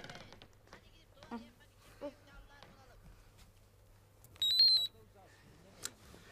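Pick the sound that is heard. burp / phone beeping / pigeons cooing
phone beeping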